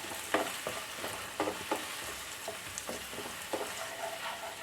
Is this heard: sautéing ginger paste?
yes